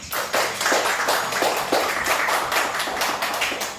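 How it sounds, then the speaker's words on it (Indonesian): Children clap together in a classroom lesson, a lively round of hand claps from a small group with distinct sharp slaps, fairly close and steady from start to finish. "tepuk tangan untuk kalian"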